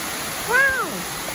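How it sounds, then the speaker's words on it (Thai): Mae Kampong waterfall in Chiang Mai, Thailand, gives a steady, close rushing roar, with a brief voice rising over it partway through. "น้ำตกแม่กำปอง"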